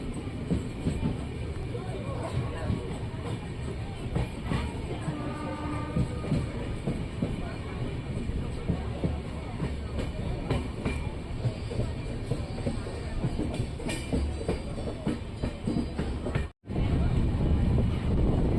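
Basava Express passenger train rolling through a diversion near Yesvantpur, Bangalore, with a steady loud rumble and wheel clatter throughout and a brief dropout near the end.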